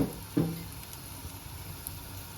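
Cooking oil heating in a pan on a gas stove, a soft continuous sizzle with two brief louder clatters near the start, fairly close and steady, with no talking.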